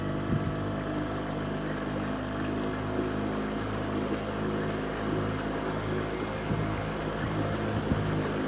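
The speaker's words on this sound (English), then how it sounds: "we're gonna go ahead and run this trolling motor, the 99 T99, stands for the high thrust model" A 2020 North River 18.6 Seahawk boat moves under a high-thrust T99 trolling motor, giving a steady close motor hum and broadband rush of water and wind against the hull, continuous throughout without talk.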